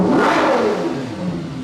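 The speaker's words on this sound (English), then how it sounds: "I have to give a couple baby revs in here." A Ferrari 812 GTS V12 engine revs up loudly and close, its pitch rising then easing back in a short, smooth throttle blip with no talking.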